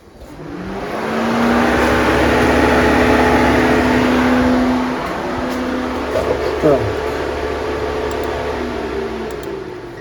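The radiator cooling fan of an Opel Zafira B runs during a fan relay test, a loud, steady whooshing roar that ramps up and holds close to the microphone, with faint clicks and a brief tonal sweep midway.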